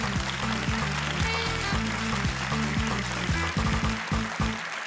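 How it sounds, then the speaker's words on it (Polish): On a Polish TV talk show, a studio audience applauds with a soft broadband clatter, quiet and mixed under a rhythmic bass-heavy music cue. "Joanna Przetakiewicz, wielkie brawa"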